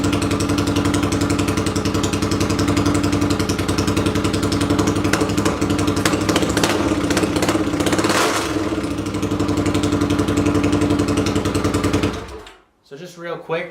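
An 800cc pulling tractor engine runs steadily with a loud, continuous rumble, partly uncovered air box and carb, then cuts off abruptly near the end, leaving brief quieter clatter.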